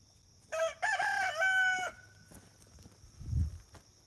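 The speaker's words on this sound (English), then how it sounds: "he's being a bad rooster" A single loud rooster crow, harmonic and drawn out, followed by a quieter low thump and faint background noise.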